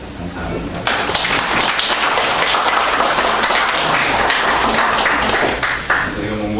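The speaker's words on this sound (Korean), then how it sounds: "오늘은 우리 몽골에서 선교사로 수고하시는 김정은 선교사님 오셨는데 박수로 환영하겠습니다" A church congregation applauds to welcome a missionary, a loud, dense burst of clapping from many hands that starts abruptly, holds steady for several seconds, then begins to thin out.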